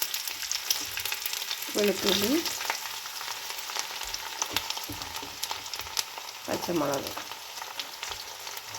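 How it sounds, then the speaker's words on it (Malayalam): Ginger, garlic and green chilli frying in sesame oil for Kerala-style mango pickle, a steady close sizzle with stirring scrapes, while a voice speaks briefly twice. "നല്ലതായിട്ട് വെളുത്തുള്ളിയും ഇഞ്ചിയും എല്ലാം ഒന്ന് ചുമക്ക് വറക്കണം നമുക്ക്"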